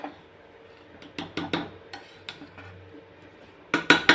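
A ladle stirring soya bean biryani in a pot, giving a few sharp metallic scrapes and clinks against the pot, spaced irregularly with quiet gaps.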